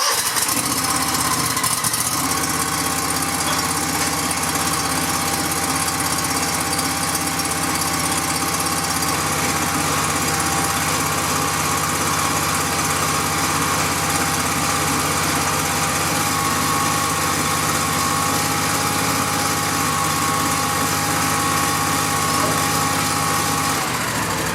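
A zero-turn riding mower's engine starts and then runs at a steady, loud idle, droning on without a break.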